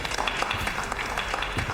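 Scattered clapping from a small group welcoming someone who arrives in an office scene of a Chinese crime drama, fairly steady and close with faint voices mixed underneath.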